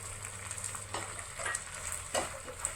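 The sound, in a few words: stirring chopped idli frying in a pan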